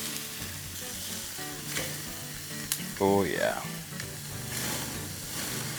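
Steak sizzles steadily over Good Charcoal Company charcoal in a Weber kettle grill, a close, continuous crackle with a brief louder flare midway and a short spoken exclamation over it.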